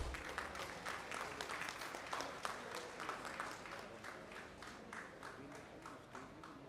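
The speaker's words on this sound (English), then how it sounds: "A big round of applause, please." Applause from a conference audience at a banking officers' association triennial gathering, a steady dense patter of clapping that carries through the whole stretch, moderately loud in the hall.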